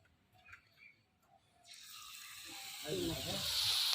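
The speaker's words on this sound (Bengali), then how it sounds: "এখন এই লঙ্কার চপগুলো ভেজে নেই।" Battered Bombay chili fritters drop into hot oil in a small village kitchen wok, the quiet room giving way to a rising, loud, steady sizzle that grows more intense toward the end.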